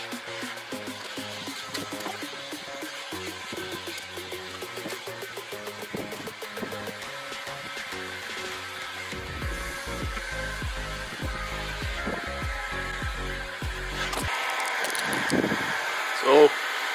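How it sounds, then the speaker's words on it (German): A hair dryer runs continuously, blowing to dry fresh paint on a van, with a steady whirring hiss close by and some handling noises and a brief knock near the end. "So, mein Föhn habe ich."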